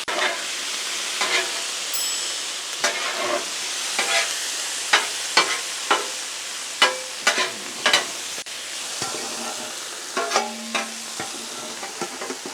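A griddle pan deglazed over chicken seasonings and tortellini keeps up a steady sizzling hiss, broken by a string of sharp scraping stirs and spatula taps at irregular intervals.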